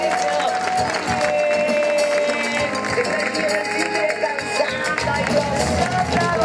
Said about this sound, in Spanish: ¡Aplausos, aplausos, gracias!